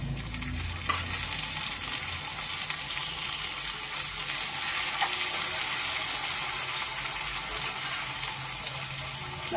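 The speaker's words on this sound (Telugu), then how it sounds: "ఫ్రై అవుతున్నాయి చూడండి." Ingredients frying in a pan for a chicken curry, cooked until golden before the chicken is added, crackle in a steady close sizzle with scraping stirs, alone and fairly loud throughout.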